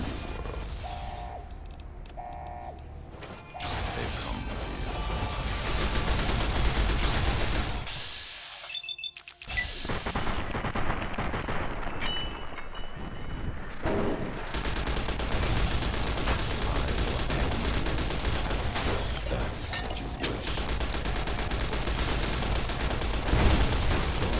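Enemy gunfire in Fallout: New Vegas crackles in dense bursts of rapid shots, fairly loud and sustained, broken by a brief lull before volleys resume through to the end.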